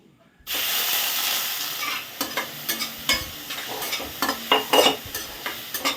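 Onion, garlic, ginger and green chillies sizzle steadily in a hot pan after a sudden start, then a spoon stirs and scrapes with irregular clatters.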